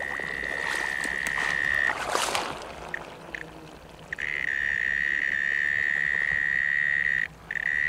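An insect gives a loud, steady electric buzz like a septic tank blower during an invasive species survey; the drone breaks off briefly, resumes, and holds against outdoor background noise.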